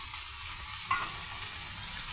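Okra pieces with large onion, green chili, tomato, salt and turmeric fry in oil over a medium flame, giving a steady, close sizzle with a brief stirring scrape near the middle.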